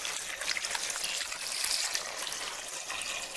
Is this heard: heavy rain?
no